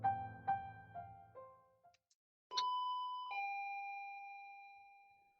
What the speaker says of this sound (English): My eyes snap open when the doorbell rings.